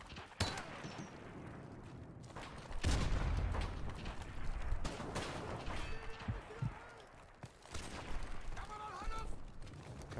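M40A3 sniper rifle fire in a sniper-only multiplayer shooter match, a few sharp shots and booms scattered among game effects and a busy mix, with a voice talking over it.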